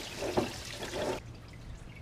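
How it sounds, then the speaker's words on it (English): Engine coolant water from a Honda Accord J30A4/A5 V6 pours and splashes into a catch pan during timing belt work, a wet gushing trickle that stops abruptly partway through. "A lot of water."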